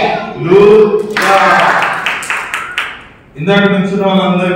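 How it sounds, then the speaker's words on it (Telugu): Children at a Vacation Bible School gathering clap together in a burst of hallelujah claps, sharp and fairly close, followed by an adult voice talking. "ఒకసారి గట్టిగా హల్లెలూయా క్లాప్స్ కొడదాం."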